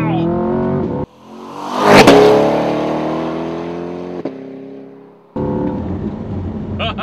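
A Chevrolet Corvette C8 Stingray V8 accelerates hard, its loud engine note climbing steeply, with a sharp pause at each instantaneous gear shift before it pulls again, heard from inside the car.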